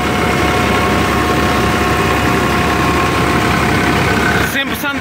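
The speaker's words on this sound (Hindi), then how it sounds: "ट्रैक्टर की आवाज़ चैक करो" A Massey Ferguson 5245 tractor with a Simpson made-in-India engine idles close by, a steady loud low rumble and vibration that runs unbroken for about four and a half seconds before a brief disturbance near the end.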